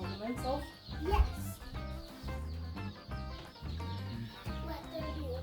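Baby chicks in a backyard brooder, chirping steadily and fairly close, mixed with clucking-like calls beneath people talking throughout.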